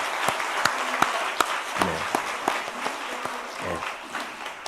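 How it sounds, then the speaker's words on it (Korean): A church congregation at a Sunday worship service applauds a Korean War veteran, dense clapping throughout with a few sharp louder claps standing out and faint voices mixed in. "우리 뜨거운 격려의 박수 한번 해드리겠습니다."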